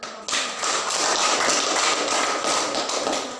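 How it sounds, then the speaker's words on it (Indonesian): Applause from a school classroom audience, a dense, steady patter of many hands clapping at once that starts abruptly and fills the whole stretch, loud and close with no talk over it. "Ya, kita beri aplaus dulu."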